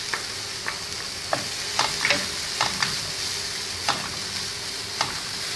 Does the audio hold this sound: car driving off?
no